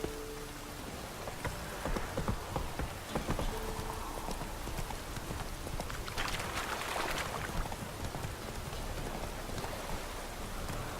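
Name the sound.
rain in a video game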